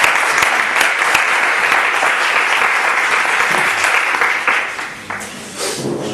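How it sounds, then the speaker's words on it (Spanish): An audience applauds Rabbi Daniel Zinnerman at a Jewish talk, a dense, steady burst of clapping from many hands that fills the room and then thins and fades toward the end. "Y le podemos dar un aplauso."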